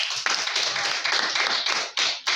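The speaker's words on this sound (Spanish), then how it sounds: "Denle un aplauso." Brief clapping from a classroom group of students applauding a classmate's answer during a geometry lesson, a patter of hand taps lasting a couple of seconds with short gaps.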